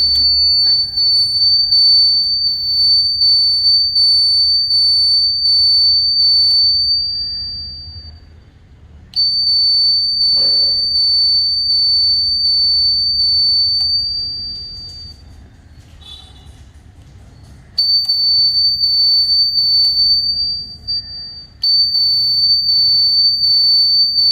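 A Royal Enfield Interceptor 650 motorcycle's turn signal buzzer drones a steady high-pitched electronic tone continuously, cutting out briefly a few times before resuming, over a low rumbling background.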